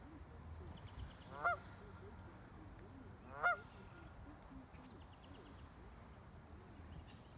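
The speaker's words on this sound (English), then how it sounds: "I saw this goose over here. I think it's Canadian goose." A Canada goose beside a lake honks twice, a few seconds apart, at moderate distance over a quiet outdoor background of low ambient noise.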